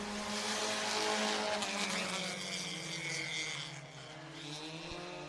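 Sprint cars of the Western Sprint Tour race at Sunset Speedway Park, a loud sustained roar of several engines blending together and holding steady, then easing slightly as the pack moves off.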